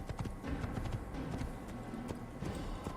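Horse hooves clip-clopping in the Assassin's Creed video game, a steady close run of hoofbeats with a busy game backdrop and an occasional faint whinny.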